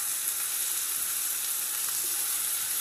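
Ginger chicken frying in a pan, a dense, steady hiss of hot oil sizzling close up without a break, and no one talking.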